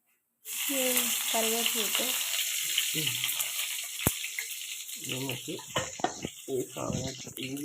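Mustard seeds and curry leaves frying in hot oil for a Kerala chicken thoran, a steady crackling sizzle with popping bursts while voices talk over it.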